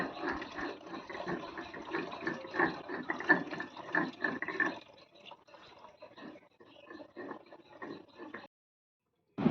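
Cut leafy greens are rinsed under a running tap, a soft, steady splashing flow that thins and sputters toward the end before stopping.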